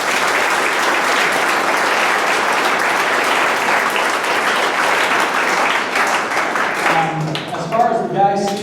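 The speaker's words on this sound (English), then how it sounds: "So a round of applause for the girls." Sustained loud applause from a school audience at a high school cross country awards night, steady clapping that fades as a voice begins speaking near the end.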